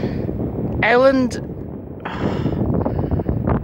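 Wind buffets an outdoor microphone in steady low rumbling gusts while someone talks throughout.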